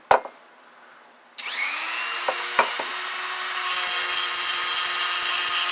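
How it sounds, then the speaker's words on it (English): A rotary tool starting to grind a hole through the center of a ceramic pot, a few soft knocks, then a sudden high whine that spins up and turns grittier as the bit contacts the surface. "Basically what you're going to do is be grinding a hole right through the center here"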